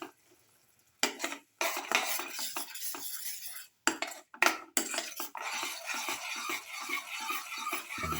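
A spoon stirs and scrapes a beetroot mixture in a pan with added water, giving steady metallic scraping and clinking close up, broken by a few short pauses.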